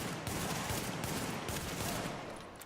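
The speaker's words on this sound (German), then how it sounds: "Ist recht mühsam mit der Pistole." Dense gunfire from the video game The Division, a continuous rattling barrage of overlapping shots that stays loud and busy throughout, with no voices over it.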